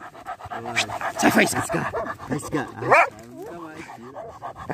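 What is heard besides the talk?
dog panting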